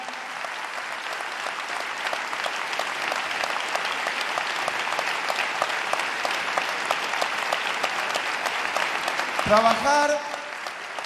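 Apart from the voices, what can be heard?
audience applause at the close of a health congress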